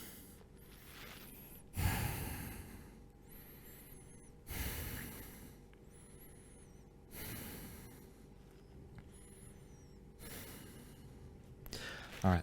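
Slow, deep breaths taken while holding a yoga pose in a slow vinyasa class, four long inhale-exhale cycles with audible airy rushes, close to the microphone and otherwise quiet.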